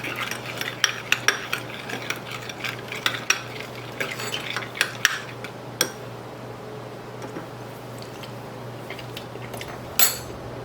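Spoon stirring sugar into a cold yogurt dish, close and fairly quiet: a run of light clinks and scrapes against the bowl, busy at first and then thinning out, with one last tap near the end.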